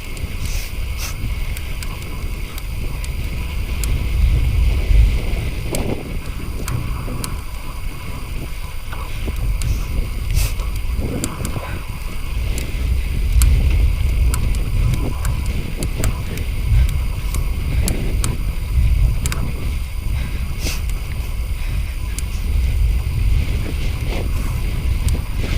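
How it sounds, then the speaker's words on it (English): Steady, blustery wind buffeting the microphone while cycling in North Yorkshire, with low rumbling gusts throughout and no voices. "getting windy again"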